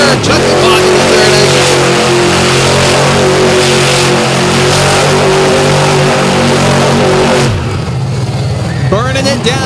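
A monster truck engine roars and revs hard through a freestyle run at a nighttime arena show in Benson, North Carolina, loud and sustained before dropping away abruptly, with an announcer talking over it and crowd noise.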